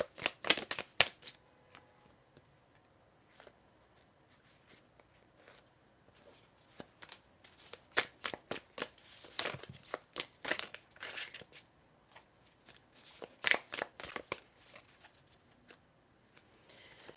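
A deck of tarot cards is shuffled in irregular bursts of sharp riffling and flicking, close and fairly quiet, with pauses in between and no talking.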